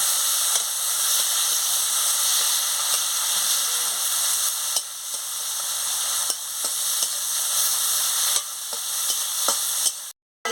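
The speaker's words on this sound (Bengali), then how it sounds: "পাতা আর পেঁয়াজটা দিই ভালো করে ভেজে নিচ্ছি" Bay leaves and onion frying in oil for a rohu fish curry, a loud continuous sizzle and hiss with repeated sharp clicks of a spatula stirring in the pan, close up, ending abruptly.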